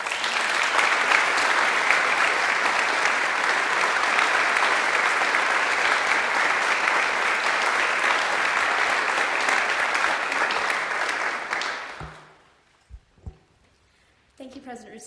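A large convocation audience gives dense, sustained applause for about twelve seconds, loud and even, before it fades quickly into a few scattered claps and near silence.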